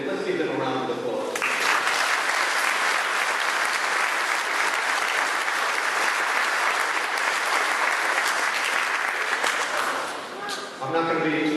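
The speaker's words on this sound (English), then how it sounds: "let's give them a round of applause" A round of applause for local businesses from an audience at a fire station gathering, starting abruptly after a brief pause and holding steady and full before tapering near the end.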